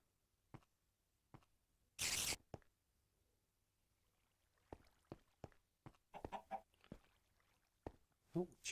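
Minecraft chicken clucks from a cave-exploring game session, several short, quiet clucks scattered irregularly amid footsteps and clicks, with a loud burst near the start.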